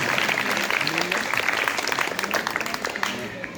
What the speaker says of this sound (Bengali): তার জন্য আমরা তাকে আরেকটা করতালির মাধ্যমে আজকে আমরা তাকে অভিনন্দন জানাচ্ছি।